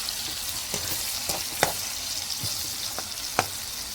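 A cabbage and moong dal mixture fries in a pan with a steady close sizzle, punctuated by a few sharp spoon knocks and stirring scrapes.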